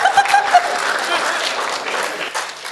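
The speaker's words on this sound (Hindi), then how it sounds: "इसमें पुरुषों ने सबसे ज्यादा ताली बजाई" Applause and clapping from an audience at a Hindi comedy poetry show, a steady patter lasting about three seconds with some laughter mixed in.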